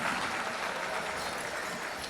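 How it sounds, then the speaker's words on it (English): An audience at the Enoch Cree Nation powwow grass dance championship applauds its finalists, a steady, dense wash of clapping heard from a moderate distance with faint voices beneath. "let's make a round of applause to all of our finalists"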